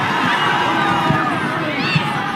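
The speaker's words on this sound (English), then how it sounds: "Crowd gets behind their side." Stadium crowd roaring steadily for Canberra United during a W-League semi-final against Melbourne City, a dense continuous wash of voices with a couple of louder swells, no individual speech standing out.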